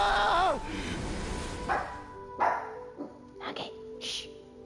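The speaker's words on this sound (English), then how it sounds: "My dog almost started barking." A dog barks several times in short, sharp bursts close by, opening with a whiny yelp and followed by spaced yips, with quiet gaps between them.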